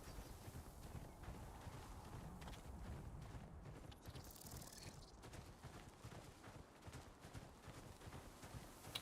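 Horse mount galloping in the fantasy game Throne and Liberty, a faint, steady stream of rapid hoofbeat clip-clops carrying on throughout, with no voices.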